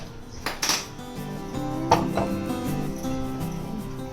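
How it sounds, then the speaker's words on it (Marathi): Pressure cooker lid being placed and closed over peas in a home kitchen, a few metallic clanks and scrapes with a ringing knock near the middle, fairly faint and close. "आता ह्याच्यावर मी झाकण ठेवते आणि कुकरचं झाकण लावते"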